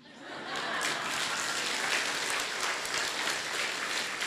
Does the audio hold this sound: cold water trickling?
no